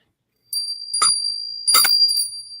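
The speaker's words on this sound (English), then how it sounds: "I have a little bell. I clear things with." A small hand bell used for energy clearing rings twice, each strike a bright, sustained chime that lingers between hits, close and alone with no talk.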